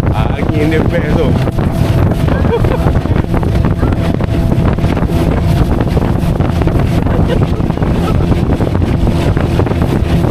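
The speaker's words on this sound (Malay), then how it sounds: "Angin dia best tu." Heavy wind buffeting the microphone during a boat ride while island hopping off Pulau Pangkor, Perak, a loud, constant roar with engine and water rumble beneath, and voices talking faintly under it.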